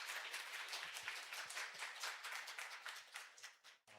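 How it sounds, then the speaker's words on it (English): Warm applause from a symposium audience after keynote talks and a Q&A session, a dense steady patter of many hands at moderate distance, fading out near the end. "please give them warm rounds of applause"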